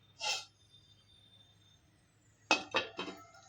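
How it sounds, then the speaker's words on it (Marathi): A lid is set back over a pot of sheera (semolina halwa) on a kitchen stove, giving a short cluster of three clattering metal clinks near the end after a brief earlier clink and quiet room tone. "आता मी ह्याला पुन्हा झाकून ठेवणार आहे."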